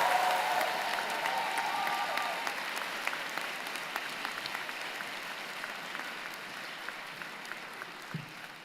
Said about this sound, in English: applause for them